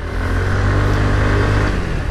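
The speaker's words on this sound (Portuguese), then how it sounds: "Vamos dar uma aceleradinha aqui." A 125 cc scooter engine at a scooter show is revved briefly and sounds close and steady, with a dense mechanical drone and no talk.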